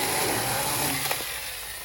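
A Denquir mini 6-inch chainsaw cutting through an oak limb, its small motor buzzing steadily and fairly faint, a short continuous whine with no talking.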